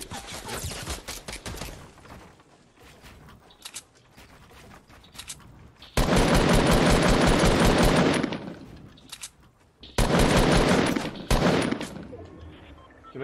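Rapid automatic gunfire in a Fortnite Battle Royale match, loud bursts of repeated shots aimed at the player, coming in several long volleys separated by brief lulls.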